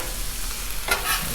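Hash browns frying on a Blackstone griddle give a steady hissing sizzle with a brief scrape near the end.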